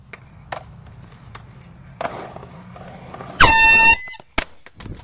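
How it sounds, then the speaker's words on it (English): A hidden air horn lets out one loud, blaring blast lasting about a second, close and harsh. Scattered clacks and knocks, like a skateboard rolling and landing, come before and after it. "He doesn't know we have a foghorn, though."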